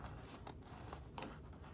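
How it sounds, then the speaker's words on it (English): Paper being cut with scissors for a Christmas mini album craft, soft repeated snips and faint rustling close by, quiet throughout. "We're gonna use scissors and just cut."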